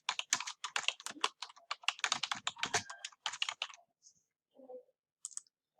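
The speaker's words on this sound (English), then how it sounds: "I'm going to go ahead and type the title of my poem." Rapid bursts of key clicks from a computer keyboard as a poem title is typed, dense and close for about four seconds, then a few scattered taps with pauses; no talking.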